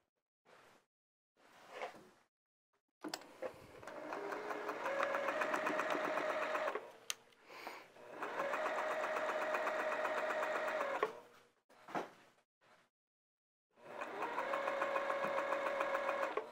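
A sewing machine stitches a flannel tunic seam in several sustained runs, a close whirring motor with rapid needle chatter, broken by short pauses and small handling clicks.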